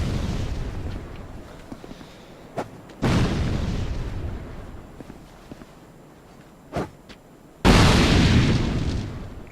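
Enemy-thrown bombs explode in Dark Souls II: two loud, heavy blasts, each with a long rumbling decay, plus a few sharp thuds and quiet footsteps in between.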